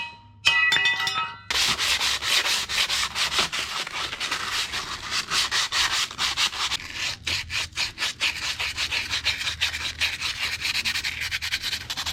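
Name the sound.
sanding machine parts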